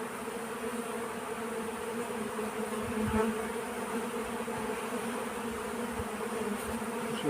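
Honey bees buzzing around hive frames in a steady, close drone that holds constant throughout, with no voices.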